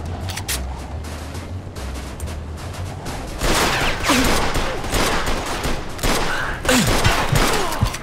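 Gunfire in the crime game Mafia 2 Definitive Edition: after a quieter opening, a dense burst of shots and impacts rings out loudly from about the midpoint, with repeated cracks over a busy, noisy backdrop.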